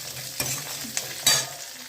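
Large onions sauté in a pan for bisi bela bath, a low continuous sizzle marked by three or four crisp stirring clicks, close by and moderately quiet.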